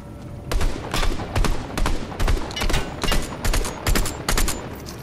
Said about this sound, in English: I'm shooting their vehicle.